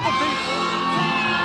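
A dense New Year's Eve crowd in Las Vegas cheers and whoops continuously, a close, loud wash of shouting voices with no single speaker standing out.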